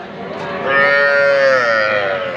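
A young heifer calf at a rural cattle market gives one loud, close, drawn-out moo that swells and holds for over a second before tapering.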